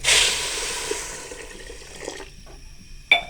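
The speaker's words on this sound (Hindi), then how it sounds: "जितनी हमने चीनी ली है, इसका आधा हम पानी डाल देंगे इसमें" Water splashing as it is poured into sugar in a cooking pot, a close, hissing pour that fades gradually over a few seconds, ending with a small clink.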